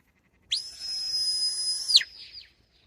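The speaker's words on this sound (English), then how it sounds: "A long whistle sound is given to stop and lie down." A Scottish shepherd's single long, high, steady whistle commanding a sheepdog to stop and lie down, held for about a second and a half, ending with a quick downward slide and a brief fainter tail, alone in quiet.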